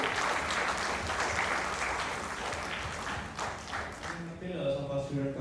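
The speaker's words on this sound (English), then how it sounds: "welcome them with a warm round of applause." Audience applause welcoming guests at a school investiture ceremony, a steady wash of many hands clapping that fades near the end as a voice starts speaking over it.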